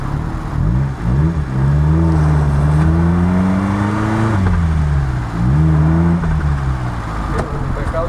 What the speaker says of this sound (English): Turn the T-lock on, four-wheel drive, and we'll do